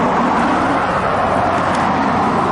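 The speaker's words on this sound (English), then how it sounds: "So this is my bus." Dense, steady roar of a city bus and street traffic in Corvallis, Oregon, loud and continuous for a couple of seconds with no voices.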